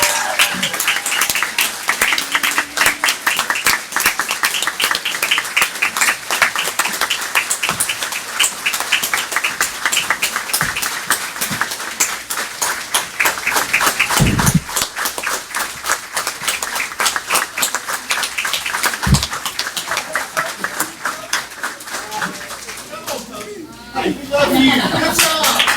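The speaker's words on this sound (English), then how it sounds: "let's give them a rousing round of applause" An audience at a town council meeting gives a rousing round of applause, dense, loud clapping that holds steady for about twenty-five seconds before thinning out at the end.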